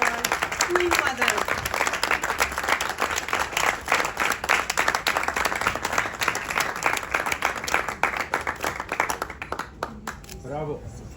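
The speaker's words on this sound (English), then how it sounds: "So please a great round of applause for Queen Mother." An audience applauds at a Cannes film festival trailer and poster debut, honoring Queen Mother: dense, steady clapping at close range for about ten seconds, with whoops and voices mixed in and a voice rising near the end as it fades.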